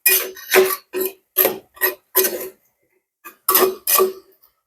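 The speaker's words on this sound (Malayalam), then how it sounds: "ചേർത്തിട്ട് നമുക്ക് ചെറുതായി കിണക്കി കൊടുക്കാം" A metal spoon scrapes and clinks against a pan of Kerala potato mezhukkuvaratti in about nine short, uneven strokes, close by, with brief pauses between.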